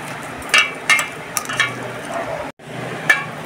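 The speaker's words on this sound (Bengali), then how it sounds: "কলা আলু ছাড়িয়ে নিয়েছি, সুন্দর করে মাখিয়ে নিতে হবে।" Boiled green banana and potato being mashed by hand, giving soft squelchy presses and light slaps in an uneven rhythm, close and moderately loud, with a brief gap near the end.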